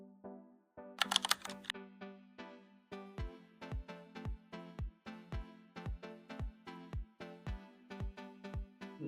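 Mobile number being keyed on a computer keyboard: a quick burst of clicks, then a steady run of single keystrokes at an even, unhurried pace, close and fairly quiet.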